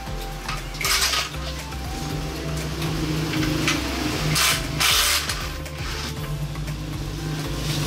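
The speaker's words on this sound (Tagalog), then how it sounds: "Dalawang bolts yan na 14mm mga bossing. So ayun, baklasin na natin mga bossing." A ratchet and tools work the two 14mm swing arm bolts loose on a Honda Click V3 scooter, with a dense, loud metallic clatter and rapid ratcheting that runs continuously throughout, close to the work.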